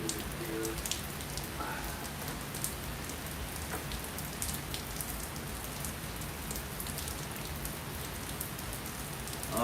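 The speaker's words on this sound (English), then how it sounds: "The rain is coming down pretty hard now." Hard rain falls in Detroit with a constant, dense hiss and crisp scattered drops pattering on surfaces, steady and close with no break.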